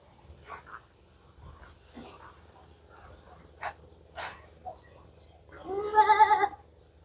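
Goats bleat on a farm at feeding time, with a few scattered calls and then a loud, wavering bleat close by near the end over quiet rural background noise.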